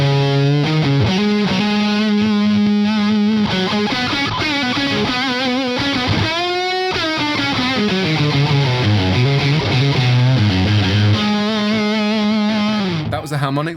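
Electric guitar run through a 29 Pedals EUNA in harmonic mode with a bender, sustained bright, distorted notes and bending pitches at steady loudness, heard alone.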